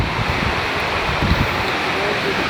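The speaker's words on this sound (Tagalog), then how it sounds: "Naririnig nyo na ba ang naririnig ko? Tubig yun!" Continuous rushing water fills the clip, a loud, broad wash like a nearby stream or falls, with low rumbling underneath.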